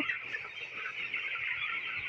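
Chickens at a poultry farm, a dense continuous chorus of chick peeping that sounds moderately close and stays steady throughout.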